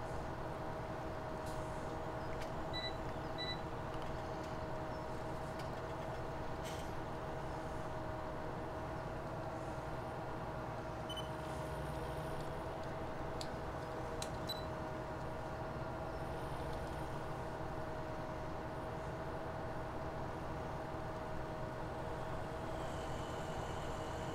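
Tractor pulling a baler across a field in a farming video game, a steady low engine drone with a continuous mechanical hum and occasional faint clicks and clanks, no talking.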